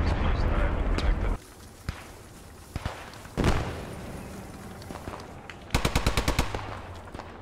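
Browning automatic rifle fire in the World War II shooter Post Scriptum: a rapid burst of automatic gunfire near the end, with scattered single shots and thuds earlier over steady battlefield background noise.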